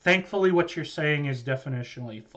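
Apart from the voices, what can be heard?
No everyday noise stands out behind the speech.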